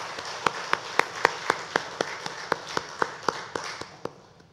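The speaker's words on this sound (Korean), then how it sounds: "우리 박수로 축하합시다" A church congregation claps together in a brisk, even rhythm, about sixteen crisp claps that soften and thin out near the end, with no talk over them.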